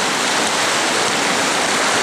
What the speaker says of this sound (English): having trouble crossing this river. It's raging.